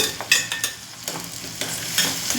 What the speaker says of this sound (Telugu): బాగా మిక్స్ చేసుకుంటున్నాను